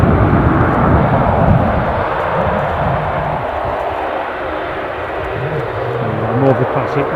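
A Ryanair jet departing Edinburgh Airport for Brussels sends out a loud, rumbling engine roar that stays steady and rises slightly at the end, with voices talking over it.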